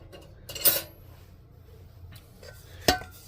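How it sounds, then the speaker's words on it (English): A metal spoon is picked up from a pile of cutlery in a kitchen, two bright clinks about two seconds apart with faint rattling between, close and clear, no talking. "Grab a spoon."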